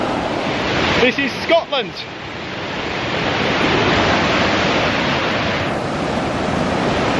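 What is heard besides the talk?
river rapids rushing water in Scottish Highlands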